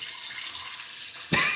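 Hot water bursts from a tap into one of four sinks in a campsite washroom on Gran Canaria, heated by a rooftop solar panel. The flow starts suddenly near the end, loud and close, after a quiet room hum.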